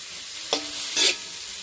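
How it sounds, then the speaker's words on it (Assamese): Spiced meat frying in a pan over a wood fire, a steady hiss with two short bursts of louder scraping and sizzle as it is stirred. "এতিয়া মাংসটো পূৰা ভাজি লওঁ"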